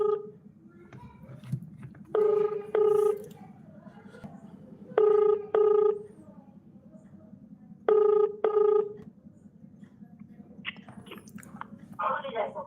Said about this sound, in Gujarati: હું તમને રમેશભાઈને ફોન કરું